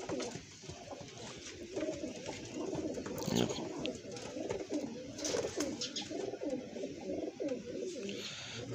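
Pigeons coo steadily in a loft of Mohar-breed pigeons, the low rolling calls overlapping and continuous, with faint chirps above.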